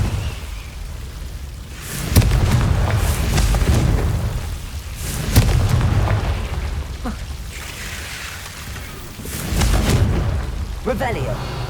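Confringo blast spells exploding in the video game Hogwarts Legacy, a few heavy booming bursts spaced a few seconds apart, each swelling and fading with rumbling low tails.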